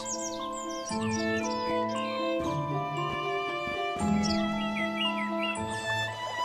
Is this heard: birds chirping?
yes